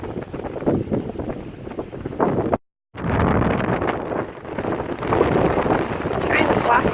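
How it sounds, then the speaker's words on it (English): Wind at the beach buffets the microphone in a loud, continuous rumbling roar that cuts out briefly near the middle, with a voice partly heard under the noise. "Trying to block the wind."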